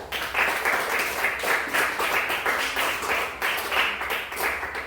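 Classroom applause from students, a steady dense patter of many hands clapping throughout, fairly close and even in level with no talk over it.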